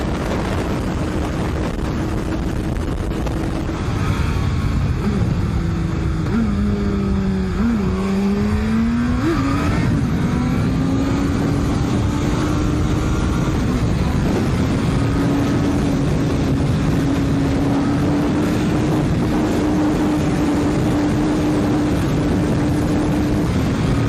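Suzuki Hayabusa and Kawasaki ZX-12R sport motorcycles speeding at high revs, a sustained engine whine rising and shifting in pitch as they pass, loud and continuous with no talk.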